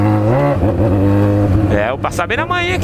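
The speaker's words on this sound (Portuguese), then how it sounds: "você tá acelerando essa bosta" A car engine revs and accelerates at a street gathering by Igapó lake in Londrina, its rising drone running close and loud beneath continuous talking.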